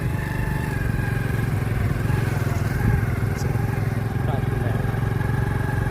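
Motorcycle being ridden along a road, its engine giving a steady close buzzing drone with a constant rhythmic pulse and faint rattles throughout.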